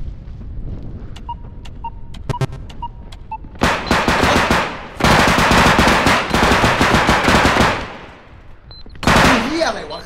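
Automatic gunfire from the Bodycam shooter video game: a few faint clicks and beeps give way to loud, sustained bursts of rapid shots, with a brief pause before a final burst.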